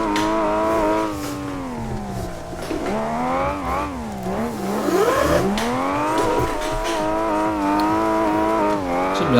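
A race car in the driving simulator Assetto Corsa, its engine revving high and dropping repeatedly through gear changes and corners, with tire squeal mixed in and no talking.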